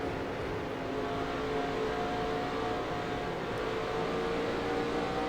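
Stock cars roar around the Dover oval in NASCAR Racing 2003 with a Cup 2019 mod, a steady sustained engine drone with a continuous whine and no talking.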